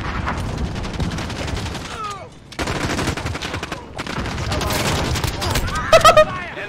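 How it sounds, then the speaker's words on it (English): Shotgun fire in the video game Modern Warfare, rapid bursts of loud close blasts with a brief lull midway and a few louder shots near the end, mixed with game sounds and a player's voice. "This shotgun is insane."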